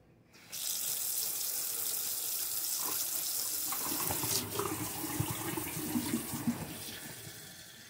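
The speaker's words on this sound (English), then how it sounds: "I'm going to rinse it again." Running tap water streams steadily for several seconds over a tie-dyed cotton shirt being rinsed in a sink, with splashing and gurgling picking up as the fabric is worked under the flow.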